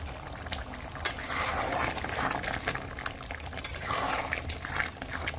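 Chicken curry with coriander paste stirred in a pot, a steady wet scraping and bubbling sizzle that runs close and fairly loud throughout with no talking.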